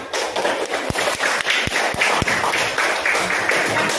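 Schoolchildren in a classroom break into steady applause, a dense patter of many hands clapping throughout, with a few sharper, louder claps standing out near the front.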